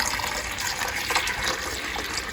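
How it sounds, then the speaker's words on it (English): Water pours steadily into a countertop ice maker's reservoir, a continuous gushing, splashing fill heard close and alone with no talk. "we're just going to go ahead and pour the water into here"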